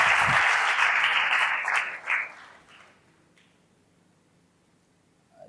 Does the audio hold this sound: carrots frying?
no